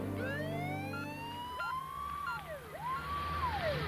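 A Wellington Free Ambulance siren in New Zealand, on a 1995 code 1 emergency response, wails alone at moderate distance, its pitch sweeping up and down in long rising and falling glides over a low engine rumble.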